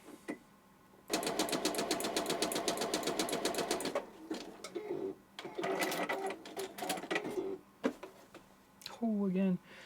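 A sewing machine stitches a zigzag in a fast, loud mechanical rattle for about three seconds, then runs in shorter bursts with pauses while a person talks in between.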